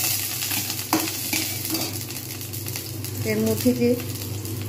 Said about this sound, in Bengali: এর মধ্যে দিয়ে দেবো একে একে করে পেঁয়াজ, একটুখানি নেড়ে নেব